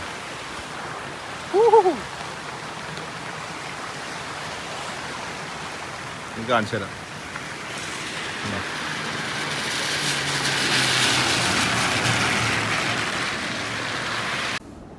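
Steady rainfall hisses throughout, swelling louder toward the end, with a brief spoken phrase and a couple of short knocks early on.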